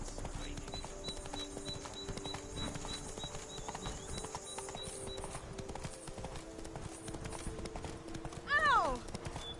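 Roach the horse in Witcher 3: Blood and Wine gallops with a steady, rapid clip-clop of hooves under game dialogue and background sound, ending with a brief whinny near the close.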